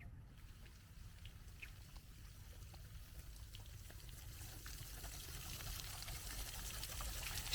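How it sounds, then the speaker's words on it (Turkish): Steady rushing water of a waterfall in an outdoor park area in Cambodia, a continuous low roar that slowly grows louder, with faint trickling and splashing on top. "Şelale."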